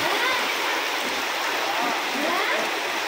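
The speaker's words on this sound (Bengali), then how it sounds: "এইমাত্রই প্রচণ্ড বৃষ্টি চালু হয়ে গেছে" Steady, dense rushing hiss of heavy monsoon rain pouring down in North Bengal, loud and continuous throughout with no break.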